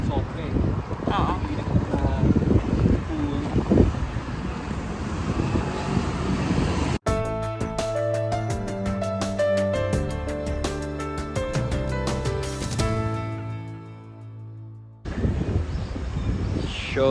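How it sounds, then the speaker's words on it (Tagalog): Gusty wind buffets the microphone in a steady roar outdoors by a garden in Tachikawa, Tokyo, cut midway by a long stretch of music before the rushing wind returns. "Mainit po. Pero mahangin."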